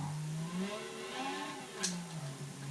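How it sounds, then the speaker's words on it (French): A Formula 1 car engine in the racing game Gran Turismo 6 whines and shifts pitch as it accelerates and eases off, a moderately quiet, continuous tone with one brief sharp click. "C'est vraiment sympa de conduire une Formule 1 comme ça"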